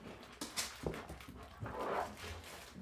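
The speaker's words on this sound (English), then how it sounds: "Sorry, dog has the zoomies." A dog with the zoomies dashing around indoors, letting out soft whimpers and short yips along with scuffling movement noises, close by and fairly quiet.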